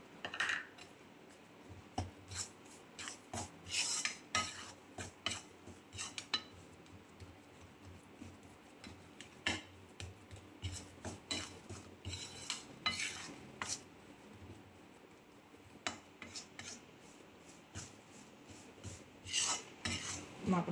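Jaggery is stirred in a pan for Gujarati sukhdi, with repeated scraping and clinking strokes of a spoon against metal in an irregular rhythm, faint and close, with no talking.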